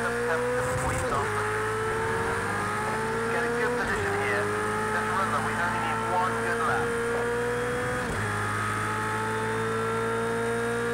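Italian race car in Project CARS 2, leaving the pit lane at the Catalunya circuit, its engine droning steadily close up and climbing in pitch through repeated upshifts; a voice talks over it.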